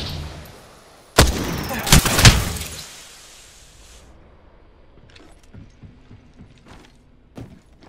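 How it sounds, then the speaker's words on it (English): In Apex Legends, a sudden loud crack of gunfire hits, followed by a quick cluster of shots, then the action drops to faint distant pops and small mechanical clicks. "Shots fired at me."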